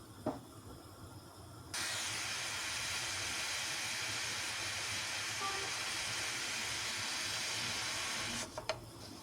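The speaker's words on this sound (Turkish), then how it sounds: "Kaynayınca buharını indirelim." Steam hisses loudly and steadily from a pressure cooker of eggplant kebab on a gas stove, a sustained broadband rush lasting several seconds that cuts in abruptly and stops just as suddenly.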